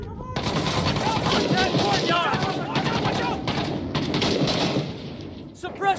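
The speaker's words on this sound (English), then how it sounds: "Pin enemies in place with suppressive fire while you flank." Sustained automatic gunfire lays down suppressive fire in the Iraq war shooter Six Days in Fallujah. Rapid, loud bursts overlap with heavier thuds and voices beneath them, then stop abruptly.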